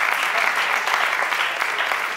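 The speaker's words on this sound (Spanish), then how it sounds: "Gracias, pueden aplaudir, ¿eh?" A comedy show audience applauds, dense, steady clapping that fills the room for a couple of seconds without pause.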